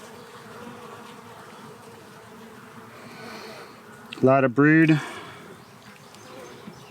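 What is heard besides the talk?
bees buzzing around hive frame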